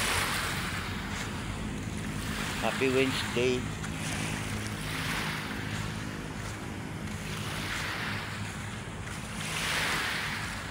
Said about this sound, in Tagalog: gumalaw na naman yung ating dagat